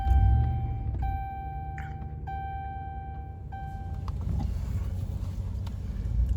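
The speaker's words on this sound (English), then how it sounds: "So now, after having started the truck" A 2009 Dodge Ram truck engine cranks and settles into a steady low idle rumble, while a dashboard chime beeps several times at an even pace over it.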